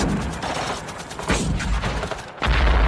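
Dense gunfire from a Vietnam war film battle scene, a squad shooting back at a hidden sniper, with bursts of rifle and machine-gun fire rattling loud and continuous through the whole stretch and a heavier volley near the end.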